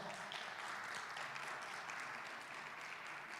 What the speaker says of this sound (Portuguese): Em nome de Jesus, você pode aplaudir Ele bem forte.